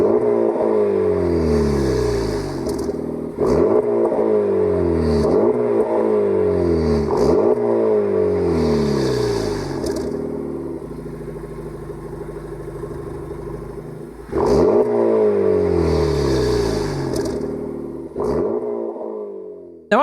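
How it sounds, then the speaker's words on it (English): A Honda Civic Type R engine in a video game revs repeatedly in sharp bursts, each climb falling back before the next, loud and close with a synthetic, game-like tone. "Let's have a listen to how this car actually sounds."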